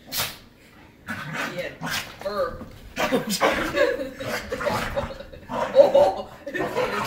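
Playful puppies yip, whimper and huff in short, irregular bursts close by, mixed with chuckling and laughter from people nearby.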